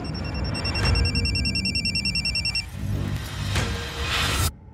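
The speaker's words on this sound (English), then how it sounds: "At about 7 a.m., our phone rang." A telephone rings in a quiet home early in the morning, two bursts of bright trilling bells, moderately loud and alone, followed by a soft rustle.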